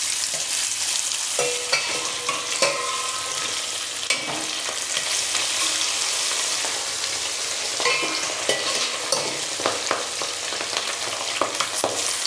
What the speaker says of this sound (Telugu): ఇది ఫ్రై చేస్తుంది.